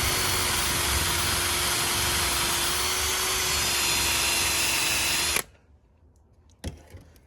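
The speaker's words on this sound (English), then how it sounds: "drill it out" Power drill fitted with a 3/16 bit drilling out a rusted brake line fitting, a loud steady whine held for about five seconds before stopping abruptly, followed by near silence and a brief clunk.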